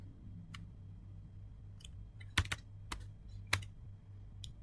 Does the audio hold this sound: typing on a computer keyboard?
yes